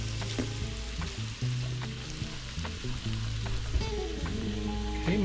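Shrimp fry in melted butter in a pan, giving a soft, steady sizzle with scattered pops and occasional stirring clicks, fairly quiet and without speech.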